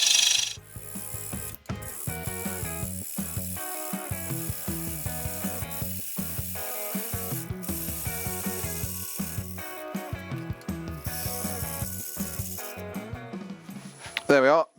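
A roughing gouge cuts into a spinning piece of wood on a lathe for a traditional German ring turning, making a continuous rattling, rasping chatter with brief breaks as the tool is repositioned.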